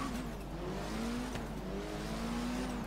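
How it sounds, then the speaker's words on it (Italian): A Lancer Evolution in the Forza Horizon 3 racing game gives a steady, moderately loud engine drone that holds and gently rises in pitch, with no voices. "si sente un po' di più il rombo, la turbina che soffia. Una Lancer Evolution"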